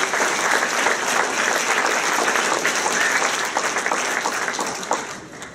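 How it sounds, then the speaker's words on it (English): A roomful of guests at a retirement party for a high school soccer coach applaud steadily and loudly for several seconds, a dense, even wash of clapping with a faint crowd murmur. "And that certainly deserves a round of applause."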